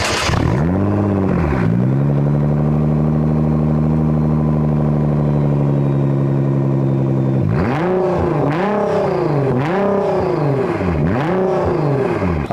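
A 2024 Nissan GTR on its stock exhaust idles with a loud, steady drone, then blips through a series of rhythmic revs that rise and fall, heard up close with no talking.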